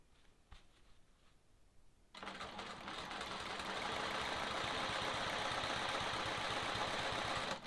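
A sewing machine stitches a Sawtooth Star quilt block. After a quiet start with a few handling taps, the motor runs steadily and loudly in a continuous buzzing whir up close, with no talking.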